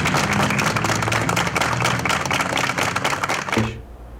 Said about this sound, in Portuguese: Em homenagem, amigos da profissão realizaram uma salva de palmas